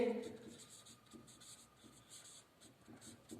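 Pen writing on paper while working a trading profit-and-loss account, with a steady close scratching of strokes repeating through a brief passage, and a voice heard briefly at the start.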